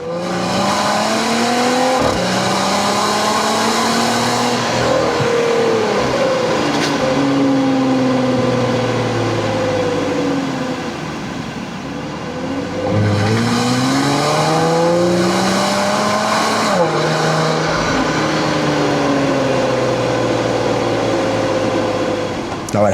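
A 2024 Jeep Wrangler Sport with a naturally aspirated 3.6-liter V6 drives and accelerates, engine revs climbing through the gears with audible shifts, loud and close, then easing off before pulling hard again.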